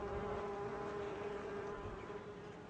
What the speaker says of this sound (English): And we can hear the beehive as we approach, so it's very noticeable.